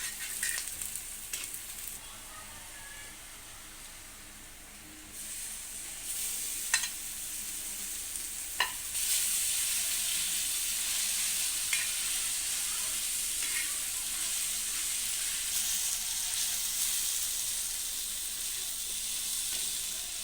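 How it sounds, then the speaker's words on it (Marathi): Green chili and garlic thecha sautéing with onion in a pan, a loud steady sizzle and hiss that swells after a short softer stretch, with occasional stirring clicks and no talk. "तो देखील परतवून घ्यायचा आहे अतिशय खमंग खरपूस असा हा ठेचा लागतो"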